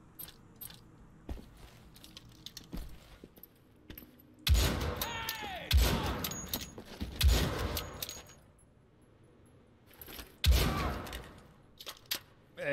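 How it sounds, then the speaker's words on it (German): Gunshots in Wolfenstein: The Old Blood: after a quiet stretch of small clicks, loud clustered shots and sharp impacts burst out in several separate volleys, interleaved with metallic game sounds. "schieße ich erstmal ein paar Mal davon vorbei"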